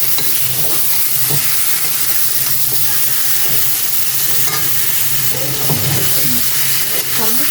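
Marinated pork tipped into a hot wok of oil for a Bengali pork biryani, sizzling loudly and steadily with bursts of crackle and scraping stirs throughout, close and continuous.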